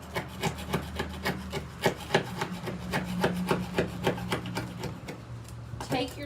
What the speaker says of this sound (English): Take your time when you're scraping.